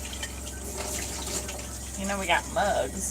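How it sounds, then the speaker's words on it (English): A coffee pot is rinsed under running water from a tap in a home kitchen, a steady close gush with sloshing swells, while a person talks over it. "Let me rinse it real quick."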